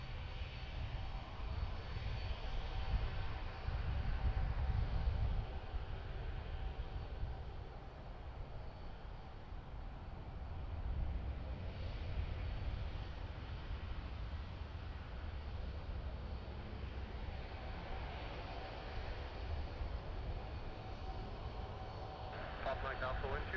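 An airliner takes off from runway 26 left at Vancouver airport, its engines a steady, distant roar that swells and fades slightly, faint and continuous with no break.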